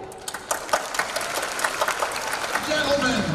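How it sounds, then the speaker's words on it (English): Audience applause and cheering at a girls' school annual day stage performance, a dense steady clatter of clapping that swells slightly toward the end, with voices mixed into the crowd. "Let's cheer for them."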